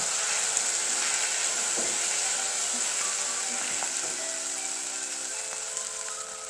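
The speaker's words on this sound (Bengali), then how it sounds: "আস্তে আস্তে আমি এই মশলাগুলোকে ভালো করে কষিয়ে নেব।" Ground cumin and chili powder sizzle in hot oil in a pan while being fried for a tel koi fish curry, a steady, fairly loud hiss running unbroken throughout with faint clinks.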